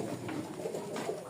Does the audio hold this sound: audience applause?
no